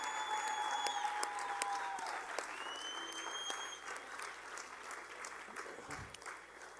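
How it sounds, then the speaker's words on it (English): An audience applauds the panelists on stage with sustained, moderately loud clapping that gradually thins toward the end, while a few faint tonal whistles sound through it. "Can we get one big round of applause for everyone on stage?"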